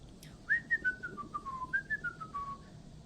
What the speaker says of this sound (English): when they're going to work in the movie, they're always whistling and very joyful and happy